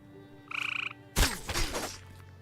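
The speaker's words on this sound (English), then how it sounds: "Everybody on this stream knows the sound of these frogs getting smacked." A frog creature in the MMO Embers Adrift croaks in a quick rattling burst and is then struck with a sharp, loud smack, followed by a brief crashing tail of game impact sound.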